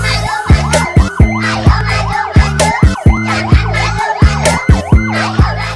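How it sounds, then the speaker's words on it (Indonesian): A loud wailing fire truck siren sweeps up and down repeatedly while sharp rhythmic thumps and horn-like blasts punctuate it, busy and close. "lihat ada juga mobil pemadam kebakaran"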